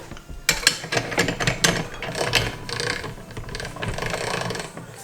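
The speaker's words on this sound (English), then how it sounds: "let's switch it to our cutter" A hand-cranked pasta machine cutter slicing ramen noodles gives off a rapid series of clicking, ratcheting mechanical sounds, close and fairly loud, in irregular bursts.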